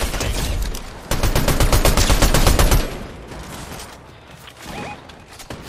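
Rapid automatic gunfire from the video game Fortnite rattles loudly in a dense burst, then breaks off into quieter scattered game sounds and a short electronic tone.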